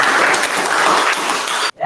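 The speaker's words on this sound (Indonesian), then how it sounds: "kasih aplaus untuk kawannya" Applause from a classroom of students clapping for their classmates, a steady dense patter of many hands at close range that stops abruptly near the end.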